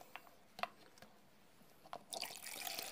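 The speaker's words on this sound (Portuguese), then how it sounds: "agora eu vou colocar o álcool" Alcohol poured into a container while mixing homemade floor cleaner, faint scattered drips and clinks followed by a short trickling pour, quiet and close with no talking.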